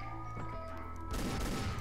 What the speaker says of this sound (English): One more gunshot.